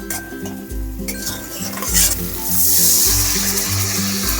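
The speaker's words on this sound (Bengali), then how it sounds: "এবার আমি পরিমাণ মতন জল দিয়ে দেবো" Water is poured into sizzling spiced masala, a cumin-paste base for a bhola fish curry, setting off a loud rising hiss with a few utensil clinks against the pan.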